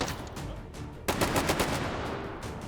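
Rapid video game gunfire bursts out suddenly after a quiet stretch and keeps rattling on in repeated loud shots, with a few lighter scattered pops in the lead-up.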